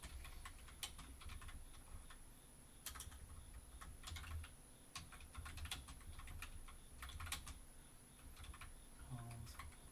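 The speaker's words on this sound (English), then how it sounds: "Sorry, while I type this in." Steady run of clicky computer keyboard typing in a quiet office, keystrokes fairly close, with irregular bursts and brief pauses and no talk over it.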